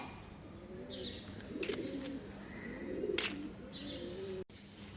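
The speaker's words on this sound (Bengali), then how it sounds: "এই যে অন্য কবুতর" Pigeons from a neighbouring house wander a rooftop on a cold winter morning, giving soft, repeated coos and a few brief chirps. The calls are faint and carry over a quiet background.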